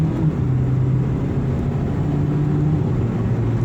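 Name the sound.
Mitsubishi Lancer Ralliart accelerating at half throttle with turbo boost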